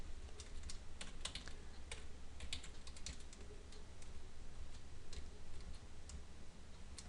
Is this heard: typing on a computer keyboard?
yes